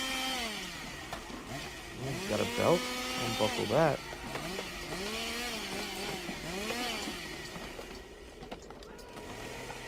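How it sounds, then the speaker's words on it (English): A toy chainsaw sound effect from an Evil Dead Ash action figure buzzes steadily through the background while people talk loudly over it. "It's just a chainsaw sound."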